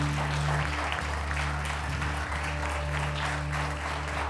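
A church congregation applauds steadily for several seconds, a dense wash of clapping over a low sustained hum, likely from music or an organ.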